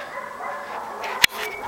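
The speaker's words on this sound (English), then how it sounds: "Dogs are barking!" Dogs barking at a distance around a house under construction, faint yaps and whimpers over steady ambient noise, with one sharp louder bark near the end.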